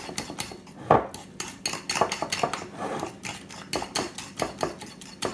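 A spoon clinks and scrapes steadily against a bowl while spinach and cheese quiche filling is mixed, giving rapid rhythmic metallic taps, close and moderately loud.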